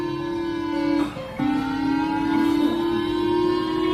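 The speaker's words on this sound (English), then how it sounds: "started blasting these loud sirens" Loud, steady wailing sirens hold a sustained tone, briefly dipping before resuming at full strength.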